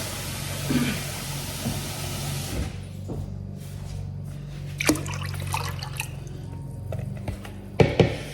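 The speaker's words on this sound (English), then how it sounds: "Now I'm going to add water" Water poured into a cooking pot while making a high-protein, low-fat vegan dinner: a steady broadband rush for about two and a half seconds, then quieter drips and a few sharp clinks.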